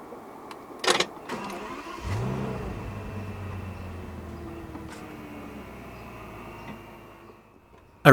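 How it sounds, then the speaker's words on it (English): A 2006 Bentley Continental Flying Spur starts up after a sharp click near one second: the starter whirs, then the engine catches and rises into a loud rev before settling into a steady, smooth idle. "Put your foot on the brake and press the start button located on the center console right here."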